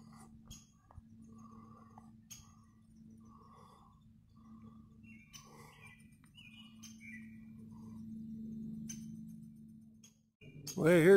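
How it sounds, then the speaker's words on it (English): A mother bird calls repeatedly near her hatchlings on a hike at Crystal Lake, short chirps and squawks scattered over a low steady background hum, with a louder burst at the end. "here's Mama Bird again yelling at me."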